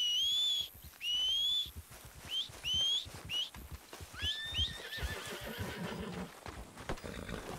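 A horse in the video game Red Dead Redemption 2 gives several shrill, wavering whinnies over soft, irregular clip-clop of hooves. Both sounds are moderately near, and no one speaks.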